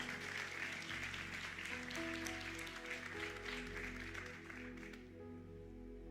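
A church congregation claps together in a dense, sustained wave of applause that fades slightly toward the end, with a low hum of music or voices beneath.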